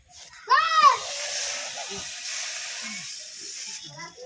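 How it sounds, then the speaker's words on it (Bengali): Water hits a hot wok (kadai) before crabs go in, a sharp burst of sizzling that settles into a steady hiss, with a voice speaking briefly near the start. "এবার কড়াইতে অল্প করে জল দিয়ে দেবো"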